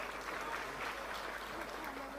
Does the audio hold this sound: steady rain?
no